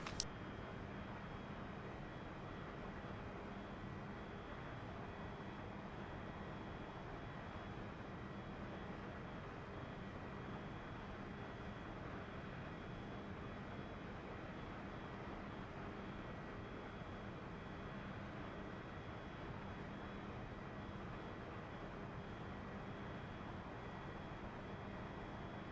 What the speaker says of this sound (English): these engine sounds are horrendous.